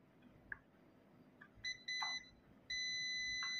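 A multimeter in continuity mode gives beeps while its probes touch pins on an EDC17C55 ECM from a Tata truck, first in short blips and then in a steady, sustained electronic tone, clear and close.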